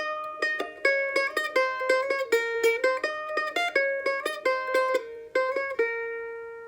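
A bright plucked mandolin plays a quick melodic lick, picked single notes, clear and close, with no voices.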